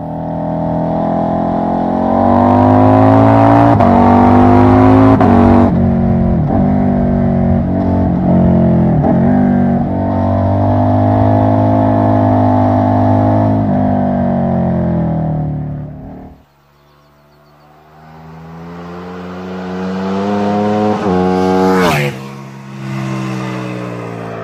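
A KTM RC8R sport motorcycle engine revs loudly and close, rising and falling in pitch with strong sustained harmonics, then a brief drop before another sharp climb.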